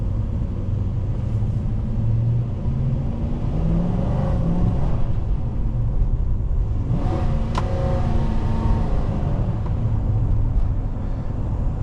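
A 2004 Nissan Titan with the 5.6 V8 and automatic transmission drives along with a steady low engine rumble and road noise, a slight rise in pitch as it pulls, and soft cabin rattles throughout.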